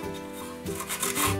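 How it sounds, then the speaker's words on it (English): Sandpaper rubs along the rounded edges of a wooden piece in short, uneven strokes, a soft close scratching with no talking. "So we'll sand these now."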